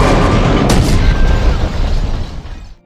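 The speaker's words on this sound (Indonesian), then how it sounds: "truk pembersih salju menabrak mobil mereka hingga ringsek" A snowplow truck crashes into a car in a film scene: a loud, dense booming crunch of impact that rolls on for nearly three seconds, then trails off abruptly.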